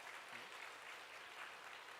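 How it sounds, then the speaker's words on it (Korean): A church congregation at a Sunday worship service applauds to welcome newly arrived members, a steady, faint wash of clapping from the pews with no talk over it. "여러분 뜨겁게 박수로 환영해 주시기 바랍니다"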